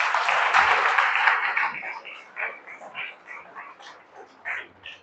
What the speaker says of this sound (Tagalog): Ang nakaintindi, pumalakpak lang.